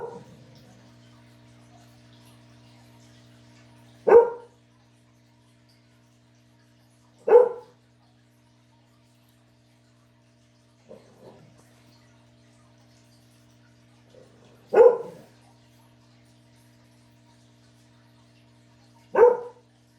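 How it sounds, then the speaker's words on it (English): A dog barks in single loud, sharp woofs spaced a few seconds apart, with a couple of softer yips between, over a faint steady hum. "Hear how he's barking"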